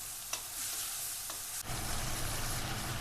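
Spices being stirred into onion and tomato frying in a pan while making masala dosa, a steady close sizzle with a couple of brief scraping stirs, no talking.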